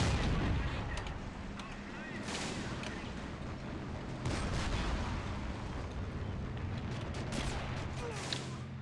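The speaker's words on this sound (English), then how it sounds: "What's this, a mortar?" Mortar and artillery fire boom across a Men of War Assault Squad 2 battle, with repeated heavy blasts over constant gunfire and explosion noise.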